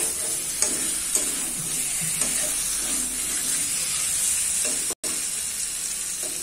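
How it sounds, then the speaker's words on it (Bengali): Potatoes sautéing in a hot pan with a dense, continuous close sizzle and hiss, broken by a few faint stirring scrapes. "আর আপাতত আলুটা কষিয়ে নেব"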